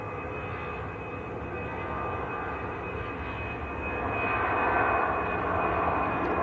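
An EasyJet airliner on its takeoff roll at Manchester Airport, a steady distant engine roar that gradually grows louder toward the end, alone without talk.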